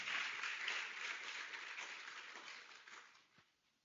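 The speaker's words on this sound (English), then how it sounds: "A round of applause for them." An audience at a science academy graduation applauds the graduating students, a steady wash of clapping that fades away toward the end.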